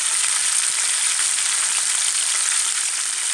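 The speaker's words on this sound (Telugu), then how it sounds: "ఇప్పుడు పచ్చిమిరపకాయలు కరివేపాకు వేసుకున్నాము. ఎల్లిమిర్చి వేసేస్తున్నామండి." Green chillies, curry leaves and garlic sizzling loudly in hot oil for tamarind pulihora, a dense, steady crackling hiss throughout with no voices.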